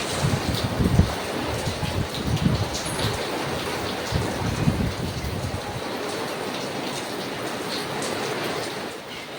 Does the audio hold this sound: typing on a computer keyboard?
no